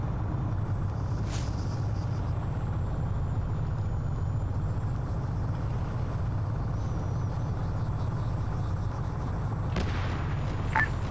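Two sharp air explosions, one early and one near the end, break through a steady low rumble like distant explosions in a military video game.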